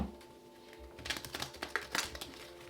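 Tarot cards being shuffled by hand, a few soft papery riffles and slaps in quick bursts, fairly close and quiet over a faint steady background hum.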